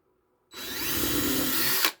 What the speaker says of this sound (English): then I'll flip the base over and do the countersink